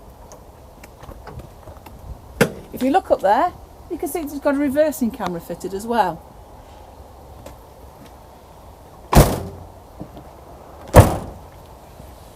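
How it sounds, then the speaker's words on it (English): Someone speaks, then two sharp, loud knocks or thuds a couple of seconds apart ring out as an Auto-Trail Tribute 660 motorhome's powered door opens further and stops. "just press the button and the door will go back further"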